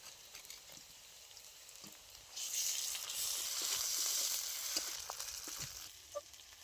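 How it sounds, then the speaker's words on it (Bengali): Onion with ginger-garlic paste fries in a pan: a quiet, close sizzle that swells into a brighter, denser hiss partway through, with faint scraping stir sounds and no talking. "আদা রসুন পেঁয়াজ খুব ভালো করে লাল লাল করে ভেজে নিয়েছি।"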